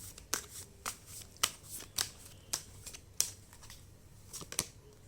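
Tarot cards shuffled and drawn during a card reading, a run of about a dozen sharp, close papery flicks and snaps at irregular intervals, fairly quiet, with no talking.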